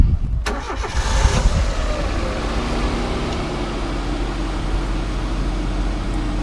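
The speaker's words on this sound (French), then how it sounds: "nous allons procéder à la mise en marche du moteur afin d'éliminer tout l'air qui se trouve dans le circuit de refroidissement" A car engine cranks and catches, then settles into a steady idle as it runs to bleed air from the cooling system after a thermostat replacement, a loud, even rumble continuing throughout.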